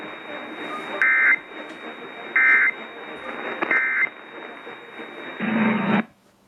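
Emergency Alert System test tones: three short, loud, identical data bursts in a rhythmic sequence, followed by a longer harsh two-tone attention signal that then stops abruptly, with quiet broadcast voice underneath between bursts.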